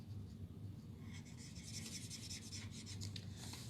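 A Blends alcohol marker colouring a Stampin' Up card, soft close scratchy strokes of the felt tip rubbing across paper in short repeated passes, faint and intimate.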